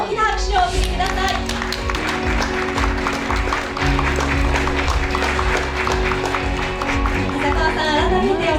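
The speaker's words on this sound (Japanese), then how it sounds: "どうぞ皆様大きな拍手をお送りください。" An audience at a Tokyo fashion week award ceremony applauds the winning designer. Sustained clapping runs throughout the clip, mixed with music and a voice.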